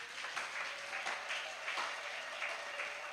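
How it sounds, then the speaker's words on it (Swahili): A church congregation at a women's camp meeting in Kisii District claps and applauds steadily, a dense, even wash of hand claps throughout with no talk over it. "Mungu anastahili makofi hayo"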